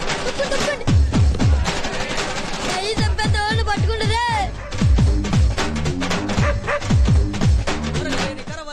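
A dog barks in a rough series of sharp, loud yaps and bow-wows on a street, mixed in with other busy sound and voices nearby.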